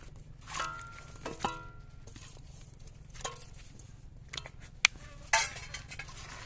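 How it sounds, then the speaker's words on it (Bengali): Rupchanda pomfret pieces are mixed by hand with spices and garlic paste in a clay pot, giving quiet scattered clinks, knocks and soft squishing against a faint steady hum, with no talking. "মাছটাকে আমি ভালো করে মশলার সাথে মিক্স করে নেবো"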